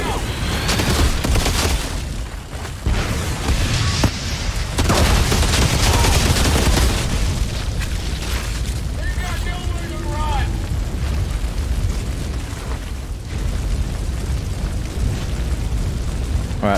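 Frag grenade blasts and bursts of gunfire in the video game Outriders, a loud, continuous barrage of booms and shots with game voices mixed in.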